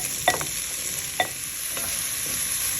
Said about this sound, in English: I'm gonna let this saute for another 3 minutes